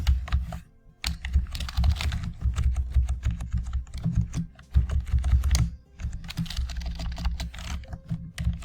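Someone types on a computer keyboard nearby, clattering keystrokes in irregular bursts with short pauses between them.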